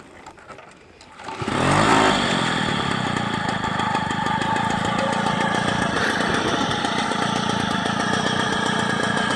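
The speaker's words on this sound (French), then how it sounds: "Ça démarre au quart de tour." A Motobécane AV88 moped engine catches after a quiet start and settles into a steady, close, buzzing two-stroke idle that runs loudly and evenly to the end with no talk.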